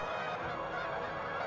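Canada geese landing, a flock honking continuously in a dense, overlapping chorus at moderate distance.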